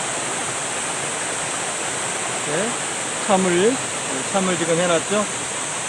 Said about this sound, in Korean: 폭포에 누워서.